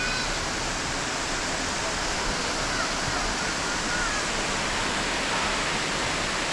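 Steady, loud roar of a waterfall near Stainforth filling the whole scene, a constant broadband rush of falling water with no breaks.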